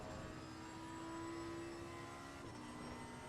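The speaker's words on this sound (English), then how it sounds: "the sounds of the engine in this sounds amazing, Keno." Race car engine in Assetto Corsa Competizione, a racing simulator, at Spa-Francorchamps; a steady, faint droning whine holds a sustained pitch, shifting slightly partway through, with no talking.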